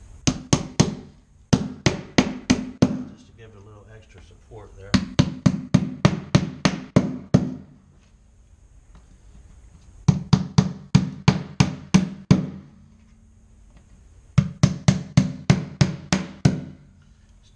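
Rapid bursts of hammer blows nailing down a Z-bar carpet-to-vinyl transition strip, several quick strikes per group, repeating in four clusters with pauses between, loud and close, with a brief spoken line in one gap.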